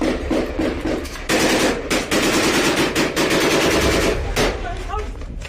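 Al-Qassam fighters fire on IDF troops after a heavy blast: loud, close bursts of automatic gunfire crackle in rapid strings, broken by short pauses and sharp single shots, with faint voices in the background.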